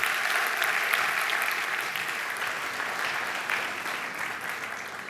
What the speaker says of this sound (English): I'd really appreciate it if we could actually have a round of applause